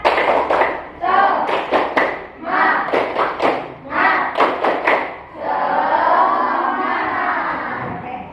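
A class of fifth-grade schoolchildren plays a rhythmic clapping game, beating out bursts of sharp, loud claps in time. The claps fall in short patterned groups, then give way to a long chorus of young voices shouting together.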